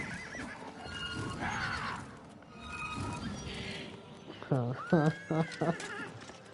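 A horse in the video game Oblivion whinnies loudly in a rising, quavering call near the end, after stretches of talking voices and a faint background hum.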